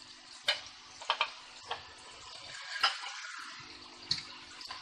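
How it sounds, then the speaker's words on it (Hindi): Tomato paste from four blended tomatoes going into chicken bhuna masala frying in a pan, giving a soft steady sizzle with a few wet splats and clinks near the start and middle. "इसमें अब हम अपने टमाटर डाल देंगे।"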